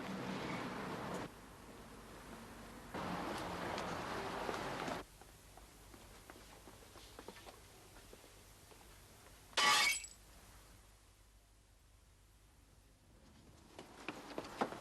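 Glass shatters in one sharp, loud burst partway through a crime reconstruction of a pane of glass in a door being smashed, set among quieter rustling and footsteps.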